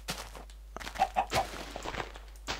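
A Minecraft chicken clucking in a few short, close clucks, with soft footstep-like thumps and game noise around them and no talk.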